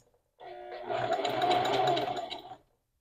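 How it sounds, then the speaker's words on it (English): A sewing machine runs a flat felled seam through denim in one short, steady burst of close mechanical whirring that starts and stops cleanly, about two seconds long. "And I'm checking as I'm sewing."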